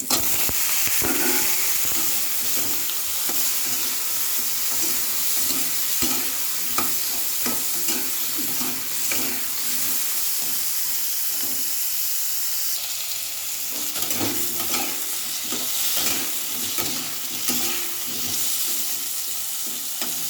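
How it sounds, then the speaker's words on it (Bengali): Potatoes lightly frying in a pan under a steady close sizzle and hiss, with repeated scraping and clacking of a spoon stirring them throughout, no talking. "খুব হালকাই ভাজবো, বেশি একটা ভাজবো না।"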